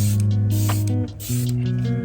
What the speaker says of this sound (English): now we're going to spray one more time